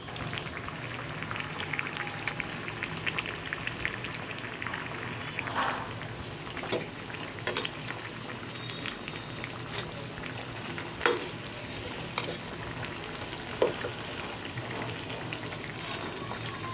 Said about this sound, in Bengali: আলু চপটা প্রায় আমার ভাজা শেষ, আমি এটা উঠিয়ে নিব